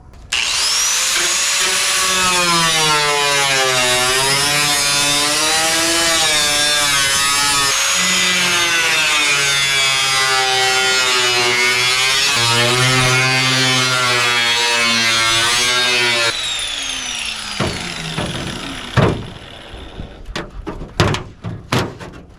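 A power tool cuts through the rusty sheet-metal body of a 1979 Z28 Camaro, giving a loud, continuous whine that wavers in pitch for about sixteen seconds. It then cuts off into scattered clunks and knocks.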